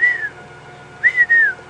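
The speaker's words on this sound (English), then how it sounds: "That strident whistling you can hear" Two strident, rising-and-falling whistles from a water thick-knee, the second a double phrase, ringing out alone against a quiet night background in Sabi Sands, South Africa.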